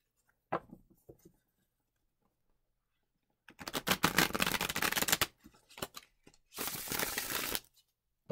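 Two long bursts of riffle-shuffling a tarot card deck, a rapid fluttering rattle, each lasting about a second or two, with a few lighter taps and handling clicks between.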